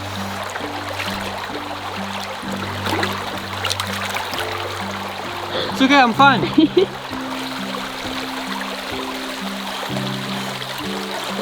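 Hot water runs in a steady, close hiss and trickle, with a person speaking and briefly groaning over it midway.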